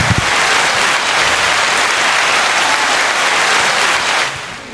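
Audience applause fills the space with dense, steady clapping, loud and close, continuing for several seconds before tapering off at the end.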